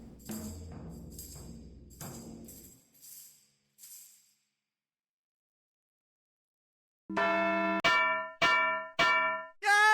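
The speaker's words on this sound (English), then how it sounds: "Or maybe now we just do the bell." In the video game Edna & Harvey: The Breakout, a bell rings as a series of four or five bright, ringing strikes that each fade out, coming after a burst of clanging and a stretch of silence.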